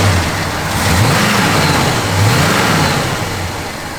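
A 1968 Pontiac GTO engine runs loud and close, with a steady low rumble that swells twice as it is revved, and no talking.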